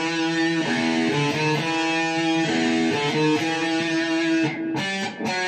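An electric guitar plays an intro riff: a clear, sustained run of melodic notes repeated in a steady pattern, played alone and up close, ending with a couple of sharper picked notes.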